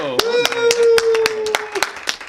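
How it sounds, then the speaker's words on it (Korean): A handful of people clap for a guest being introduced at a school event, sparse, uneven claps of varying loudness over about two seconds, with a voice speaking over them. "박수"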